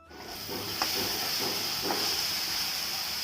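Fish curry simmering in a pot on the stove, a steady close hiss of steam and bubbling that holds evenly for a few seconds.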